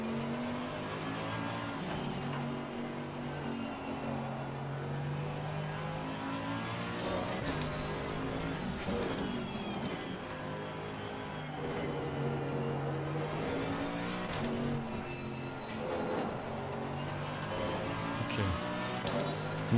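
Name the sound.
GT3 race car lap at Nürburgring in video game Assetto Corsa Competizione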